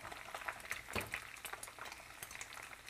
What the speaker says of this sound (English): the top to cook the top of the eggs with the hot oil